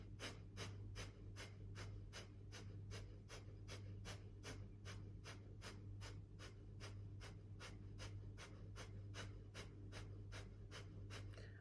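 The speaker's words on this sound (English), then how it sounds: "we're going to close our eyes and we're going to do a breath of fire here." Breath of fire in a Kundalini yoga session, rapid rhythmic nasal exhalations pumping steadily at about two per second, close and even throughout with no talk.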